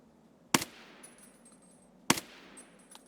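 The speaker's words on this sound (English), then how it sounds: "I think I'm shooting well over 400 meters." Two sharp, loud gunshots in a video game, spaced about one and a half seconds apart, each with a short decaying tail over a quiet background.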